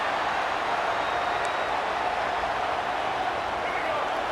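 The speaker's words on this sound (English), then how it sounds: "Listen to the crowd energy here in the early going." A steady, dense video-game stadium crowd roar at a college football game fills the background, a broad constant wash of cheering noise with no distinct breaks.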